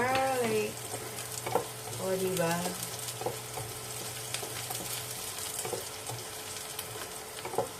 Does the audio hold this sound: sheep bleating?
no